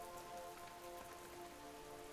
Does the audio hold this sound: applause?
no